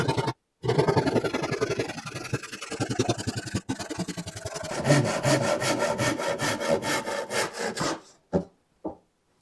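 A hand saw cuts through wood for a bookcase built with hand tools only, in steady back-and-forth strokes that run close and loud for most of the time, quickening near the end before a few final short strokes.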